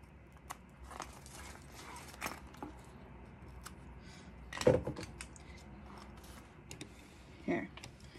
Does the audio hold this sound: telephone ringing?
no